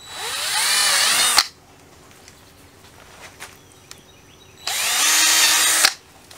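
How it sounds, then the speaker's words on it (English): Two loud bursts of a power drill whirring as it drills drainage holes in a greenhouse strawberry gutter, each about a second long, separated by quiet shuffling and light handling noises. "with the drill bit, we can control how much drainage it gets or not"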